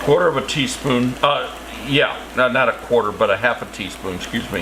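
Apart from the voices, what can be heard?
None of the usual background noises is heard.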